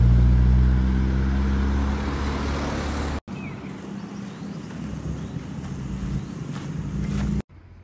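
Renault R8 Gordini car arriving at an outdoor car gathering: a loud, steady engine and road rumble with wind noise, broken by a brief cut midway, then continuing at similar level.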